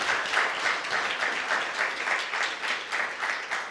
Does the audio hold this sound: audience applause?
yes